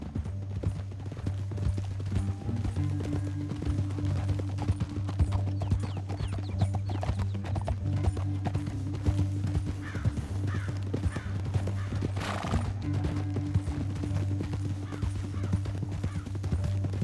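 Steady clip-clop of horse hooves at a walking pace over a low droning background in Red Dead Redemption 2, with a bird cawing faintly partway through.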